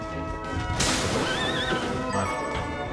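A horse enemy lets out a loud, close whinny in the video game Bloodstained: Ritual of the Night, rising sharply then trailing off within a few seconds, with no talking over it.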